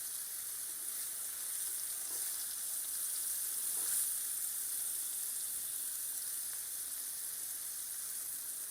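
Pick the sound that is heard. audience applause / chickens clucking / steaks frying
steaks frying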